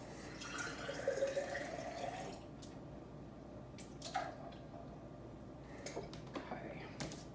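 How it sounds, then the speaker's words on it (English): Water pours from a container into an Instant Pot holding chicken enchilada ingredients, a steady splashing trickle for about two seconds, followed by a few soft drips and knocks in a quiet kitchen. "I'm just gonna add a little bit water, maybe up to here, just for a little bit extra liquid."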